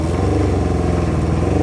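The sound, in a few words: 1978 Kawasaki KZ650 motorcycle engine kept revving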